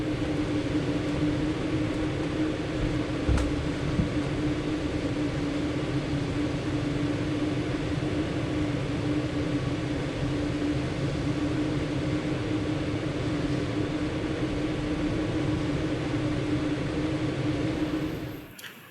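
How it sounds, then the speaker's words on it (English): A Maxx Air roof fan runs steadily in a van on a semi-windy day, producing a constant broadband whoosh with a low hum that continues evenly until cutting off at the end. "Here is the sound of the fan on a semi-windy day."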